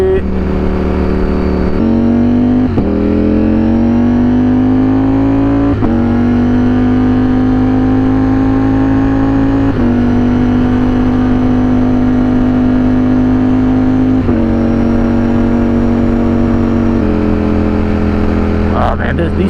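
A Ducati Streetfighter V4 motorcycle pulls hard through the gears, its loud engine note climbing in steady sweeps, with crisp quick-shifter upshifts breaking each rise every few seconds, heard up close throughout.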